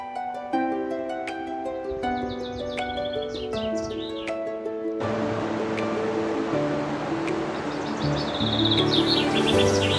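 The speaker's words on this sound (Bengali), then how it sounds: "অসম্ভব সুন্দর মিষ্টি সুরে পাখি ডাকছে।" Birds sing sweet, varied melodic phrases beside a canal fed by Staubbach Falls in Lauterbrunnen valley, Switzerland, with several calls overlapping; from about halfway a broad rush of falling water grows louder beneath the song.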